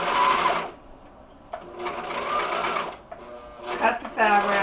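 A serger sews a rolled hem on fabric, its fast mechanical stitching whirring in loud bursts that start and stop, with a person talking between and over the runs.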